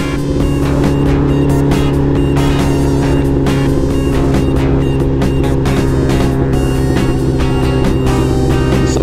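A motorcycle drones along a road at a steady pace, its engine hum holding constant and loud throughout with slight rhythmic flutter, no talking over it.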